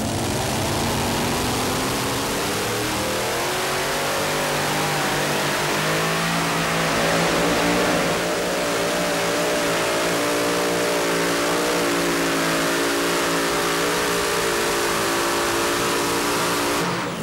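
A supercharged blower-motor modified two-wheel-drive truck runs down a dirt pull track at a Fairfield, Illinois event, its loud engine roaring steadily and climbing in pitch as it pulls on without a break.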